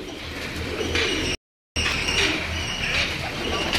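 Racing pigeons cooing on a Lahore rooftop loft, soft repeated coos over a busy, continuous background, briefly cut to silence partway through.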